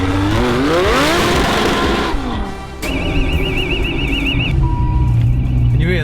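Supercharged Lamborghini Huracan accelerating on the road, its exhaust roaring loudly through rising revs, then a sharp crackle and a car alarm wailing nearby as the engine note carries on.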